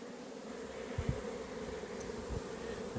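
Honeybees flying in to the hive landing board loaded with pollen, a faint steady buzzing hum with a few brief louder passes close by.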